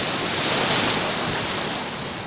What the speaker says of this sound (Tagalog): Grabe, laki alon.